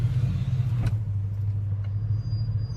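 A 1997 GMC Sierra pickup truck pulls a trailer, its engine a steady low rumble close by with no voices.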